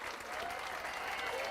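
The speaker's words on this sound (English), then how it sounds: "please give a big cheer and lots of applause for our young carer winner" An awards ceremony crowd applauds and cheers for a young carer winner, a steady, dense wash of clapping throughout.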